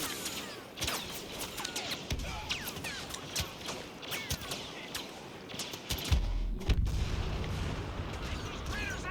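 A grenade goes off in a sci-fi shooter game amid scattered gunfire, a deep booming blast near the six-second mark rising out of quieter, sporadic shots.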